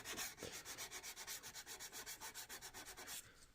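Rhythmic back-and-forth rubbing of roughly 400-grit sandpaper against a carved wooden spoon, about twenty quick even strokes up close, stopping at the end, no voices.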